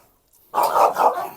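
Dogs of Kangal and Rottweiler breeds bark loudly after a short silence, giving a rough burst of close barks and growly yelps that run to the end.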